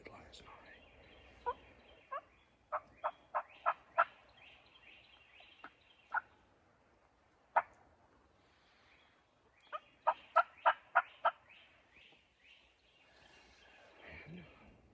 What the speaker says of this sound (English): he's already gobbled a couple times this morning